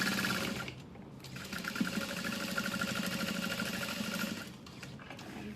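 A sewing machine stitches across the top of a diamond clutch wallet, a steady close mechanical whirring hum that runs for several seconds and drops off briefly at the start and near the end.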